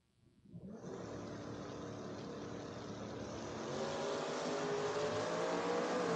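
Drag racing launch with a pickup truck and a 1979 Camaro, a loud, sustained engine roar that kicks in suddenly after a brief quiet start and keeps building steadily through to the end.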